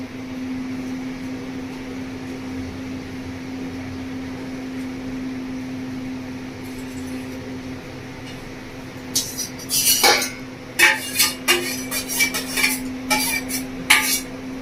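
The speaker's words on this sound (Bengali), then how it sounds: "ভালো করে নাড়াচাড়া করে নেবো।" Prawn and moong dal curry is stirred in a pan with a spoon, the scraping and clinking bursts arriving late and loud over a constant appliance hum that fills the earlier quiet stretch.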